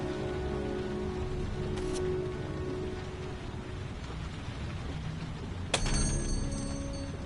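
Steady rain in a video game falls as a continuous wash of close patter, with a low rumble building midway and a brief sharp mechanical clank near the end.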